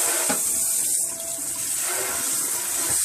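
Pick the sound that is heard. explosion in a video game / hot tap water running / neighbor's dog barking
hot tap water running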